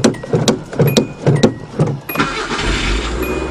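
A 1983 Datsun Pulsar engine with a freshly filled carburetor cranks in a few rhythmic bursts, then catches and runs roughly on rich choke, loud and close with no talk.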